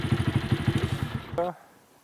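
A 1992 Honda Monkey Baja motorcycle's small engine putters in a steady, fast pulsing rhythm up close, then a brief rising whine before it cuts out abruptly into quiet.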